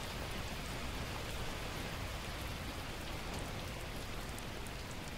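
Steady rain falls in the survival game The Last Plague: Blight, a dense, even hiss of drops on surfaces that runs without a break, fairly quiet and alone with no voices.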